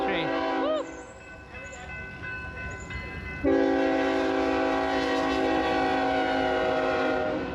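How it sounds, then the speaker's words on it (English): A passing train sounds a loud horn, first in short sliding blasts and then as a long sustained tone. The horn rides over a steady rumble of rail cars rolling by. "I was experiencing all sorts of locomotives this day"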